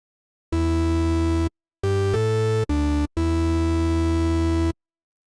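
Arturia Pigments wavetable synth set up as a Minimoog-style lead and dropped two octaves, playing four sustained, buzzy low notes with short gaps, loud and close with no talking.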